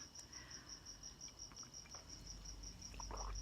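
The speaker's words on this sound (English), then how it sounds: "I understand if crickets aren't fun for your ASMR experience" Crickets chirp in a steady, evenly pulsed trill that runs throughout, moderately close against a low background rumble, with a faint brief knock near the end.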